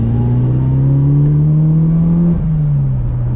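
A Mitsubishi Evo GSR engine drones steadily close by, its low hum rising slightly in pitch and then easing off, with no voices over it.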